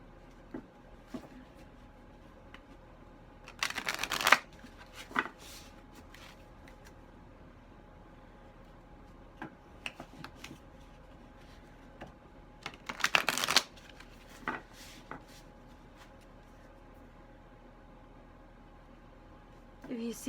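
A moon tarot card deck shuffled by hand in two short, crisp rustling bursts separated by a long quiet stretch, with faint scattered taps and handling noises between them.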